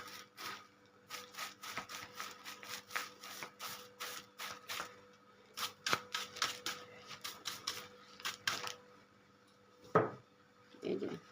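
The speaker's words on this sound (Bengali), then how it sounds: "এই যে ফুলদানি একটু ডাস্টার দিয়ে দিলাম" A flower vase being dusted with a duster, a fast series of soft brushing and rubbing strokes in bursts, close and quiet, pausing before a couple of light knocks at the end.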